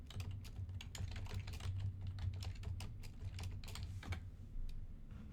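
Rapid, irregular clicking of keys on a computer keyboard as a prompt is typed, close and steady over a low background hum, with no talking.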